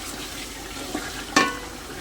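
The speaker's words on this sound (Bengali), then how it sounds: "এবার আমি ধুয়ে রাখা চাল আর ডাল একসঙ্গে দিয়ে দেবো।" Washed rice and lentils tumble into a hot frying pot of spiced ingredients, giving a brief wet splash and hiss over a steady low sizzle.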